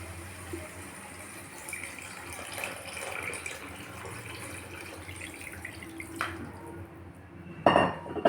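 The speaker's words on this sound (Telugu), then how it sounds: "ఇప్పుడు నీళ్ళు వేస్తున్నా" Water is poured into a pot of mutton curry with a steady splashing rush, then a louder clatter and gush near the end.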